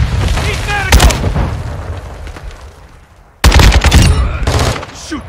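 Rapid bursts of automatic gunfire and booming blasts from a multiplayer shooter video game, loud and dense, with a short lull in the middle before a fresh heavy volley, with game voice callouts mixed in.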